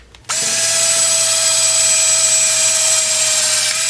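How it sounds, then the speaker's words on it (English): A power drill runs steadily, boring a pilot hole into the baffle of a Stihl MS660 chainsaw muffler cushioned on cardboard, a loud continuous whine that starts abruptly after a brief pause and holds an even pitch throughout. "now I'm going to drill a pilot hole about in the center"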